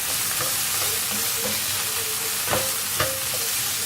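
Ground meat with fresh parsley cooks in a pan, sizzling steadily and close with a few light scrapes and clicks from stirring.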